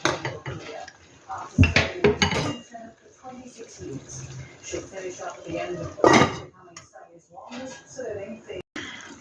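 A lid goes onto a pot of adobo pork left to simmer slowly, with clattering metal cookware clanks and cutlery knocks sounding between bursts of a person talking nearby.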